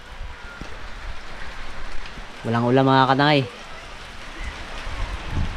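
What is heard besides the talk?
rain falling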